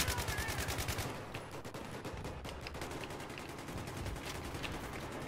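Sustained automatic weapon fire in a Battlefield 3 match on Xbox, a dense rattling stream of rapid shots that runs through the whole stretch at steady loudness, with other battle sounds mixed in.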